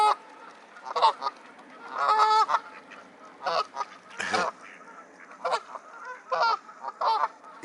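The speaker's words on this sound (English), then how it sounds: "Oh, look, more geese coming in." Geese honk repeatedly at a pond, a series of loud, nasal calls in irregular bursts, some overlapping, with quieter bird sounds between them.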